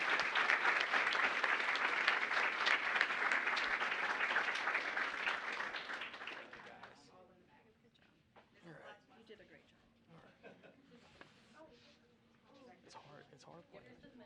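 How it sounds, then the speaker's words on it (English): At a student awards ceremony, an audience applauds in a steady, dense wash of clapping for about seven seconds. The clapping then fades to scattered claps under quiet murmuring. "So please join me in applauding these young students."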